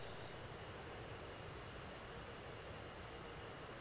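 F-15 jet engine in the DCS World flight simulator, a steady, loud, continuous roar and rush that holds evenly from start to finish.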